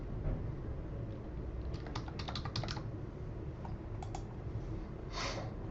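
Fingers tap on a computer keyboard, with scattered keystrokes in quick clusters and a few isolated clicks, faint and close against a low room hum.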